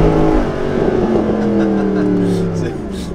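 A Mercedes SLS AMG Roadster engine revving on a wet road in the rain, a loud, steady engine drone with rising and falling harmonics that fills the whole clip.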